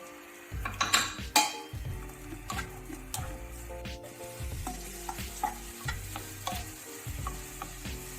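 Hot oil sizzles steadily as raisins fry while a spoon stirs and scrapes against a metal pan in repeated clinks and taps.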